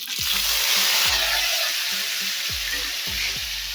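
Onions with cumin and mustard seeds sautéing in hot oil, a steady broad sizzle throughout with repeated low knocks of a spoon stirring against the pan, close and fairly loud with no talking.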